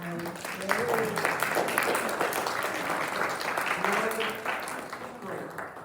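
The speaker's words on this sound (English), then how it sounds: "if you would stand up so that we can give you a round of applause." Audience at a resident meeting gives a round of applause, a steady patter of clapping from a modest crowd while people talk over it.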